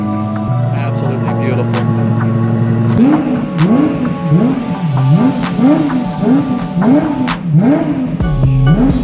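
A Lexus LFA supercar engine with aftermarket exhaust, idling steadily and then blipped repeatedly in a rhythmic series of loud, close revs that rise and fall.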